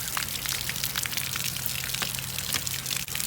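Water pours into a toy toilet bowl with a steady hissing, splashing gush that runs unbroken and fairly loud, close up.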